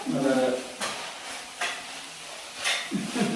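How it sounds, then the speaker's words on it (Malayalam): A frying pan of food is stirred in repeated scraping strokes over a soft sizzle, with several sharper bursts of spoon-on-pan contact spaced about a second apart, close and fairly clear. "കുട്ടു അവിടെ ഇളക്കിക്കൊണ്ടിരിക്കുന്നുണ്ട് കേട്ടോ"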